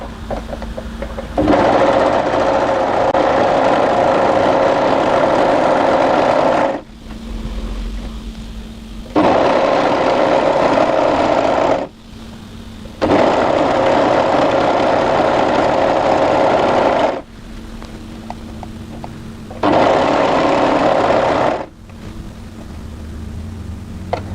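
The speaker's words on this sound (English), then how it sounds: "just overlock around the edge of the hem" An overlocker sergeing around the hem of a tee dress runs in loud, steady bursts of several seconds each, whirring and buzzing, with short pauses between runs.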